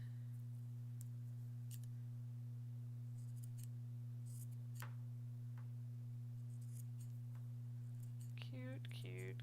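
Scissors trim metallic embroidery thread in a handful of quiet, sharp snips spread across the stretch. Each cut sits over a steady electrical hum.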